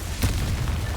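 A Confringo blasting spell detonates in the Hogwarts Legacy video game, one short booming burst that rises sharply and then rumbles on at a steady level for the rest of the moment, with no talk over it.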